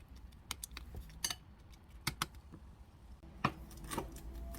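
Tofu and enoki mushroom seasoning being mixed in a bowl with sesame oil and pepper, soft clinking and scraping of a spoon against the bowl in short irregular taps, quiet and close with no talking.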